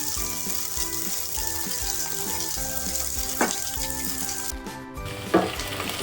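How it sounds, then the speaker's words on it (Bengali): Okra frying in oil in a pan, a continuous crackling sizzle with a few scraping stirs and brief clinks, close and steady, no talking. "ভেন্ডিগুলো আমাদের ভাজা হয়ে গেছে"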